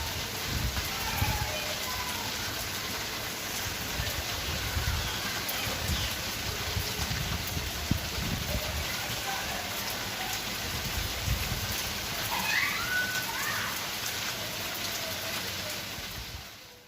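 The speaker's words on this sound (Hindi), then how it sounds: "बहुत ही ज़्यादा बारिश शुरू हो गई है।" Heavy rain pours down in a steady, dense hiss that holds without a break, with spattering drops on surfaces nearby and no one speaking.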